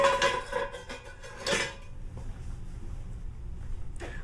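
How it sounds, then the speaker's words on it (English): Cast iron skillets clank and scrape as they are set into a hot oven, a cluster of sharp metallic knocks in the first two seconds followed by a quieter hum and a faint final clink. "So I'm going to get my cast iron skillets into the oven."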